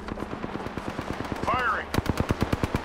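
Automatic weapon fire in the shooter game Apex Legends, rapid loud bursts of regular gunshots up close with a brief mid-clip whooshing effect, and a voice briefly speaking over the shooting.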